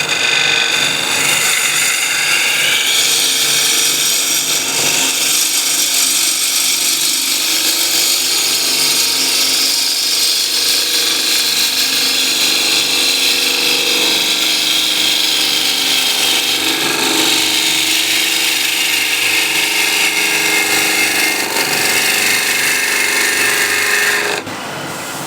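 A gouge makes a shear cut on a wooden bowl spinning on a lathe, giving a continuous, loud, close hiss and whir that holds steady for about 24 seconds before stopping abruptly.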